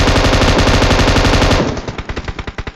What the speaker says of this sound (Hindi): लेकिन फायर तो हम भी दे रहे थे